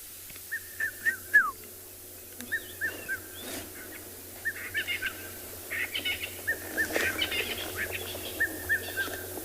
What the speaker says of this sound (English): Enjoy the sounds of the cuckoo.